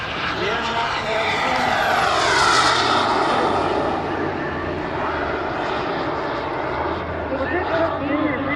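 A model F/A-18 Hornet jet powered by a King Tech 320 turbine flies past at an airshow, a loud continuous roaring whoosh that swells around the middle and slowly fades, with a voice talking over it.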